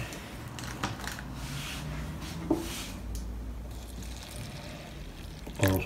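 Aquarium water pours close by in a steady rushing and trickling wash, with a few brief splashes and knocks along the way.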